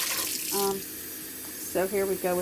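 Water runs from a tap into a cup for cooking rice, a steady rushing flow behind a person speaking close by.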